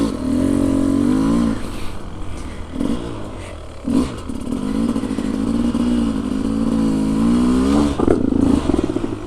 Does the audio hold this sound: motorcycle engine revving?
yes